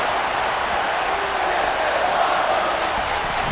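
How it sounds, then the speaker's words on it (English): Steady, loud roar of an arena crowd cheering at an NXT TakeOver Philly wrestling match in WWE 2K19, a continuous wash of voices with no breaks. "The crowd is on their feet."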